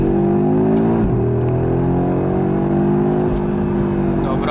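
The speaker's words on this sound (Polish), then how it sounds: "warkot silnika w trybach sportowych i tak robi spore wrażenie" A 2022 Audi RS3 2.5 TFSI engine in sport mode roars loudly and close, pitch dipping briefly as if shifting gear, then climbing steadily under hard acceleration.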